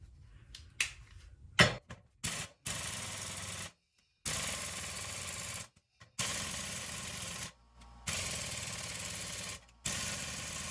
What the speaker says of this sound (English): I'm going to just try to hit these with the impact and see if I can get them to spin.